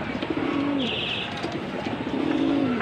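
Blue-eyed Pankhi pigeons coo in low, throaty rolling calls, repeated a few times against a steady background of cooing and faint chirps.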